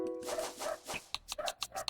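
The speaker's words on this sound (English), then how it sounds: "my dogs are barking, as they usually do." Dogs barking in a house in short, quiet bursts, several yaps in quick succession near the end, heard faintly alongside chiming tones.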